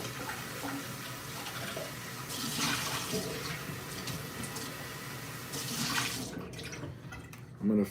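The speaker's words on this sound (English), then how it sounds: "I'm gonna fill this with water and then I'm gonna put it in here." Water runs steadily from a tap into a mug, surging louder twice before cutting off, heard close with no voices.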